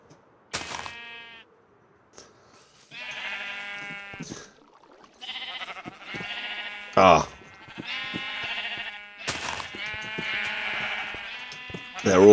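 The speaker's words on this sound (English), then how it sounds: "I've got all the wool I need, which is just over here at the sheep farm" Minecraft sheep on a sheep and wool farm bleat repeatedly, several distinct near bleats overlapping in irregular bursts, with a few sharp game clicks between them.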